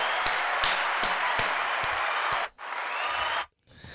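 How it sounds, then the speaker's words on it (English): A podcast audience claps for a guest, the applause steady and fairly close. It is broken by sharp individual claps and by two short gaps near the end. "give him a round of applause one more time."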